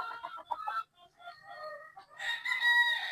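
A straight-breed possum gamefowl rooster on a gamefarm crows nearby, a loud drawn-out call in several rising and falling segments with a brief pause, then a strong final stretch.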